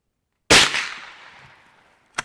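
A Savage Arms Springfield 120A rifle fires a single sharp crack at clay targets outdoors; the report trails off over about a second, then a brief click follows.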